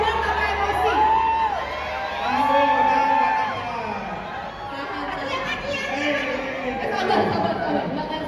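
A crowd screams, whoops and cheers at a film gala premiere, a dense wash of voices and shouts rising and falling in waves with laughter mixed in.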